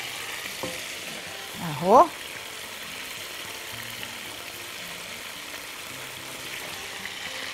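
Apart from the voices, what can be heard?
onion, garlic and mushrooms frying in a pan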